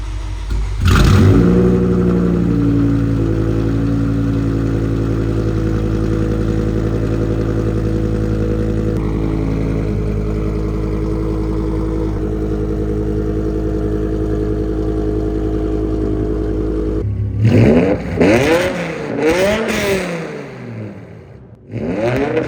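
A V10 BMW M6 with 3-inch pipes, X pipe, no cats and no muffler revs hard, loud and close, settling into a sustained high roar, then cutting off before several sharp rising and falling throttle blips.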